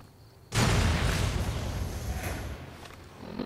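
A 40 millimeter grenade exploding in Fallout: New Vegas: a sudden, loud boom that follows a quiet lead-in and rolls into a long, rumbling decay lasting several seconds.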